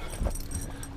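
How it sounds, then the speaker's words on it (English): Inside a van, a dog gives a brief close yelp or bark over a steady background rumble, with a soft thud early on. "She loves to bark and bite people's faces off too."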